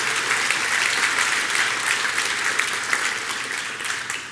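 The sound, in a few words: audience applause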